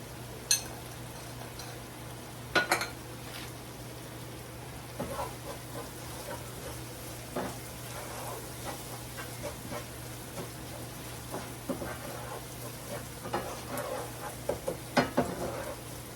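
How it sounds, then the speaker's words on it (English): Rice browning in a pan for taco bowls gives a steady, low sizzle with scattered crackles and occasional louder pops and stirring clicks, close by and fairly quiet, with no talking. "So we'll just let this brown up a little, the rice"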